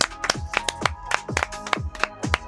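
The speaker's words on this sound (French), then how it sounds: "je pense que ça s'applaudit" A few people clapping in a music studio: sharp, close hand claps in a quick, slightly uneven rhythm, roughly a dozen crisp slaps over a couple of seconds, with no talk over them.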